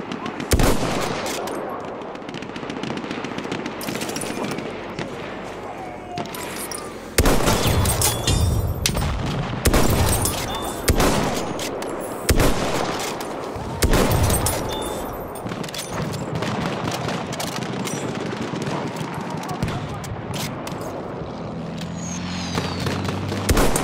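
Machine gun fire rattles through a Battlefield 1 video game battle in loud rapid bursts, some close and some farther off, mixed with heavy booms and occasional voices.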